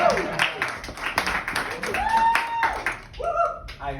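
Sparse, brief applause from a small comedy club audience, a few scattered claps mixed with talking and laughter rather than a full ovation.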